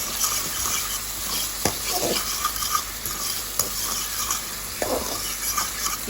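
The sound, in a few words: sautéing scallion, garlic and pepper in a pan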